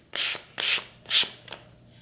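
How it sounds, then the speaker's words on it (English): Three firm rasping strokes of 220 grit sandpaper lightly rubbing a shellac-sealed MDF edge, followed by a shorter light pass, close and clear with no talking. "I'm just going to lightly sand with 220 grit sandpaper"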